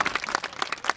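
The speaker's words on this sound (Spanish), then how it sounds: "fuerte el aplauso para Donato" Audience applause at a 3D circus show, a short burst of scattered hand claps from a modest crowd, fairly close and steady for about a second with no talk over it.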